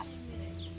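A chicken clucks in a short, faint burst over a steady low background hum. The sound is brief and quiet.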